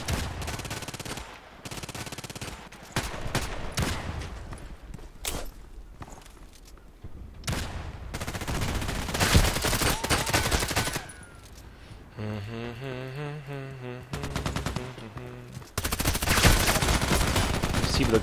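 Pistol fire from a Glock in a shooting video game, rapid bursts of sharp shots scattered through the stretch alongside heavier gunfire, with a brief engine-like drone in the middle.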